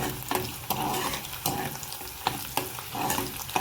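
Chopped green chillies and onion sizzle and fry steadily in hot oil in a pan, a continuous close crackle broken by a few sharp stirring scrapes, with no voices.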